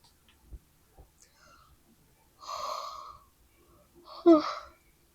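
A person yawns aloud, a long breathy drawn-out exhale followed by a second louder yawning breath, close to the microphone amid quiet small mouth sounds.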